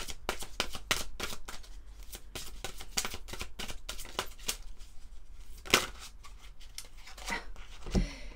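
Archangel Michael oracle cards are shuffled by hand, a quick run of crisp riffling slaps followed by slower, spaced shuffles, close and fairly soft, with no talking.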